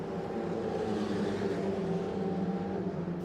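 Black Alpine Elf Europa Cup race car, rear mid-engined with a 300-horsepower 16-valve 1.8-litre four-cylinder, racing at night at Circuit de Barcelona-Catalunya; a steady, loud, continuous engine drone with no break.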